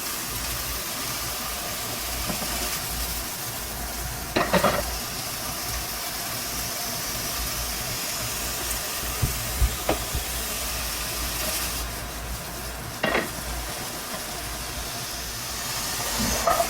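Bacon burger rice patties frying in a hot pan, giving a loud, constant hissing sizzle with a few brief clanks and pops, close and without speech.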